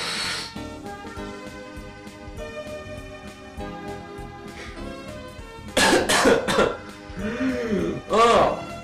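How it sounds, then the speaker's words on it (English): A person with seasonal allergies coughs, sniffs and clears their throat in several loud, close bursts, with quieter game music playing underneath. "that was just me like sniffing and snorting and coughing"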